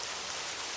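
Rain falling in a steady, dense hiss, an even wash of drops with no pauses, close and moderately loud, no voices.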